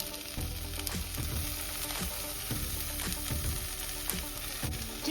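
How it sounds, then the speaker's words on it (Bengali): Potatoes and small shrimp fry in a pan, giving a continuous close sizzle broken by repeated scraping stirs at a steady rhythm, with no one talking. "এবং চিংড়ি মাছটাকে একটু ভাজা ভাজা এর সঙ্গে করে নেব।"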